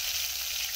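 Spices and onion paste sizzle steadily in hot oil in a pan, a close, continuous fry with no pauses and no voices.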